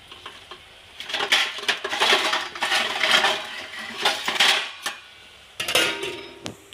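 A cooking pot of broad bean curry is stirred with metal scraping and clinks, followed by a couple of sharp clanks as a lid is set on it, close by and without talk.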